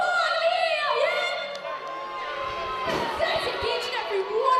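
A women's wrestling crowd in London cheers and shouts together, loud and sustained, with a single sharp slam from the ring cutting through midway.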